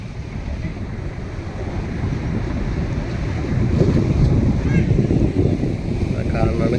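Sea waves wash up on a beach at Kappad, a broad rushing surf swelling louder midway, mixed with wind buffeting the microphone.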